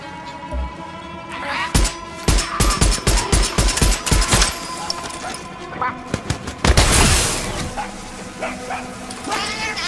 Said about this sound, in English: Oh shit, that's one fucked up bird.